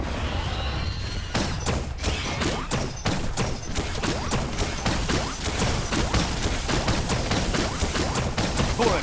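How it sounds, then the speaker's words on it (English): Video game Biomutant gunfire: a dense, continuous barrage of rapid shots with sharp repeated cracks over a loud rumbling background, heard up close without talk. "Bullets everywhere."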